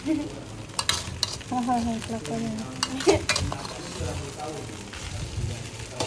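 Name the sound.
stirring nasi goreng in a wok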